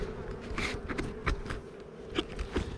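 Honey bees buzz around an opened backyard hive, a dense steady hum with several individual bees flying close past in short swelling passes.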